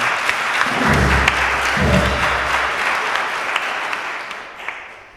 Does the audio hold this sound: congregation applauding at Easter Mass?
yes